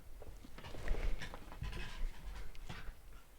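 A dog panting nearby in quick, rhythmic breathy huffs that continue steadily for a few seconds, close to the microphone with no talk.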